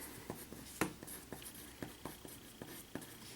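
Marker or chalk strokes on a classroom board while writing out conic section formulas, a series of distinct taps and short scrapes at an uneven rhythm, one sharper hit, moderately close with no talking.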